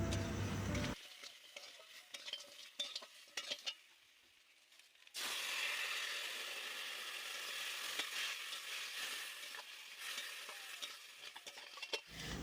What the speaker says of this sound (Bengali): পরিমাণ মতো একটু হলুদ দিয়ে আর অল্প করে করে জল দিয়ে দিয়ে এই কাঁকড়াটাকে মশলার সাথে একটু ভালো করে কষিয়ে নেওয়া হচ্ছে